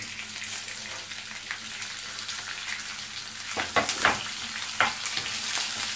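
Onions, green chilies, ginger and curry leaves fry for wheat rava upma, a dense, continuous crackling sizzle with a few sharper stirring scrapes near the end, close up and without speech.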